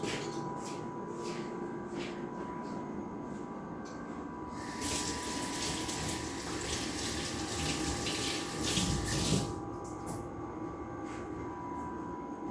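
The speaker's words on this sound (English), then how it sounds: "I'm going to rinse my hands because I don't like to put the sticky on the controls" Hands rinsed under a running tap after honey extraction, a steady close stream of water splashing continuously, with a brief louder surge of flow partway through and no talking.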